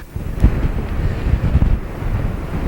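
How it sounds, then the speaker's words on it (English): Nor'easter storm waves crash over a seawall at Scituate, Massachusetts, with strong wind buffeting close by; low rumbling surges and gusts churn continuously for a few seconds, no voices heard. "These waves now crashing over the seawall."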